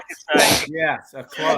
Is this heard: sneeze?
yes